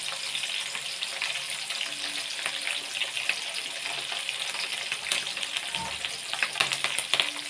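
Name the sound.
onions frying in a pan while being stirred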